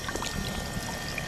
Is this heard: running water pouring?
yes